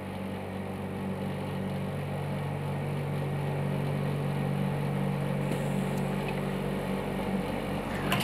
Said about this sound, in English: Then machine will do the injection automatically.